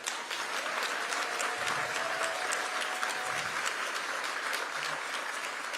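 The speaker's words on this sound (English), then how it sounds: "a round of applause to my mom, Giselle James." A crowd at a swearing-in ceremony for the Cincinnati mayor and council gives a sustained, dense round of applause, loud and steady with no pauses.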